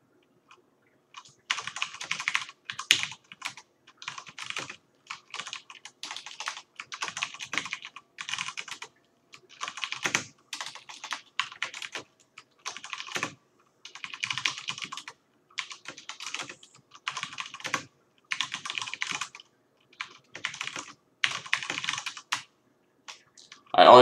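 Rapid bursts of keystrokes on a computer keyboard during a programming session, clattering in quick irregular runs separated by short pauses for about twenty seconds, close and clear with no talking.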